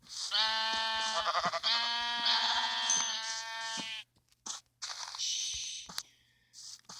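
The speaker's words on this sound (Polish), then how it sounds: "O, widzę owca," Sheep in Minecraft Pocket Edition on Android bleat in a string of loud, close, vibrato-laden calls, followed by shorter broken bleats with gaps of silence between them.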